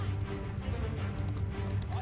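Horses galloping across a large Mount & Blade II: Bannerlord multiplayer battle, a steady rumble of hoofbeats with clip-clop texture over low battle noise, continuous and moderately loud throughout.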